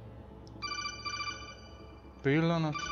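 A phone rings with a steady electronic ringtone pattern, fairly loud and repeating, in a quiet room, while someone briefly speaks over it near the end.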